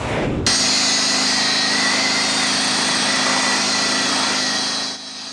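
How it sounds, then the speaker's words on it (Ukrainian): Construction machinery working in a residential courtyard on Prymorska Street in Odesa, a loud steady high-pitched engine drone that starts abruptly, holds for about five seconds, then eases off. "У дворі на вулиці Приморська знову працює будівельна техніка."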